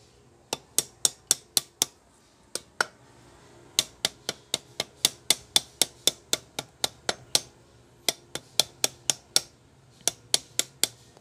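A small hammer taps a clutch lining on a high-speed sewing machine, sharp metallic taps ringing out in quick runs of several strikes, close and crisp, with brief pauses between groups and no talking.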